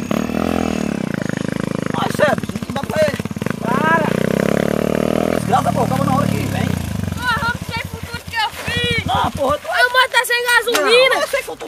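A motorcycle engine revs and roars loudly in bursts, its pitch rising and falling, while people talk over it.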